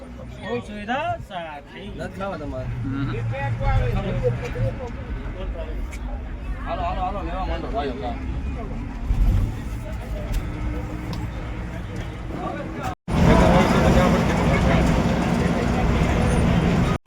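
Steady rumble inside a moving bus with overlapping passenger chatter throughout, the noise swelling louder after a brief cut near the end.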